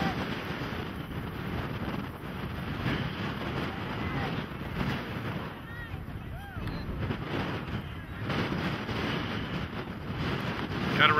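Steady wind roars across an outdoor football pitch, buffeting the microphone with a constant low rumble throughout, with faint voices now and then underneath.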